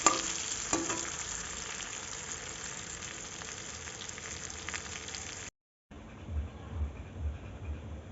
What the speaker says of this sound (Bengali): লবণ আর হলুদ দিয়ে আলুগুলোকে ভালো করে ভেজে নিচ্ছি, লাল লাল করে